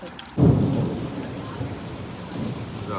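A deep thunder rumble breaks in and rolls on over steady monsoon-style heavy rain, loud and close, with a low grumbling tail.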